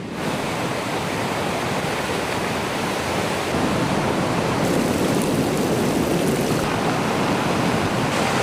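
Loud, steady rush of water tumbling over rapids, a dense broadband roar that swells slightly louder midway and continues without pause.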